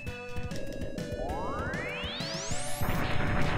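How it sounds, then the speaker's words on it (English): G-Crush weapon attack in Mega Man X2: a rising electronic sweep climbs steadily over about two seconds, then ends in a crunchy burst of noise over game sounds. "So this G-Crush thing, there's only a couple things I use it on"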